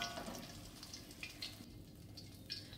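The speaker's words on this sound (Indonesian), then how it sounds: "Campuran cabenya, cabai kering, cabai rawit hijau, dan cabai merah besarnya saya goreng juga" Dried chilies, green bird's eye chilies and large red chilies fry in oil for a Mie Aceh spice paste, a faint, steady sizzle broken by small scattered pops.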